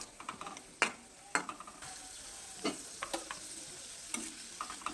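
Raisins frying in oil for home-style chicken biryani, a soft low sizzle broken by sharp scraping clicks of a spatula stirring in the pan.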